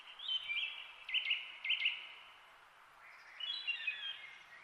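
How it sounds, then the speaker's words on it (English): Small birds chirp and sing in bright, repeated bursts of high twittering, fairly faint and alone against a quiet background. "Birds."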